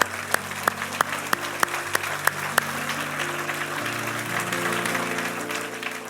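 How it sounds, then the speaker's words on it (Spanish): A church congregation applauds together, steady rhythmic claps that keep the same beat while a sustained organ or keyboard chord plays underneath. "Vamos, denle un aplauso al Señor."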